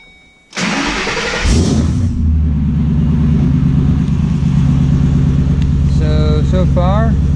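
A car engine cranks briefly and catches, then settles into a loud, steady idle with a deep low rumble, heard close; a voice speaks briefly over the running engine near the end.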